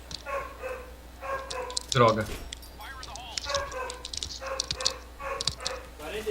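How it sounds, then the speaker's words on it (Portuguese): A pet dog barks and yips indoors, a few sharp barks and whimpers scattered among ongoing talk from a person nearby. "meu cachorro tá latindo"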